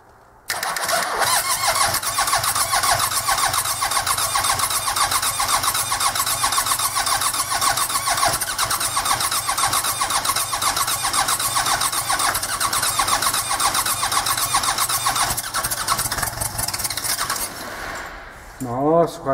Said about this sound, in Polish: Rozruch ciężki jest dlatego, że słuchajcie, nie podłączone są świece żarowe.